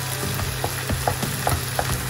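Meat frying in a pan at home as a dish with broccoli cooks, a steady close sizzle with occasional crackles and stirring scrapes throughout.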